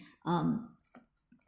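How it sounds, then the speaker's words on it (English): A voice speaks briefly, then the key clasp of a designer key pouch gives two small, soft clicks as it is pushed, close by and quiet. "the key holder, the key clasp here, is the type where you can kind of push"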